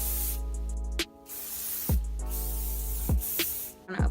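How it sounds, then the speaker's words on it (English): Several short hissing bursts of hairspray, close and crisp, separated by brief pauses, with a low hum underneath. "I do like to spray just a tad bit of hairspray in my hair as well."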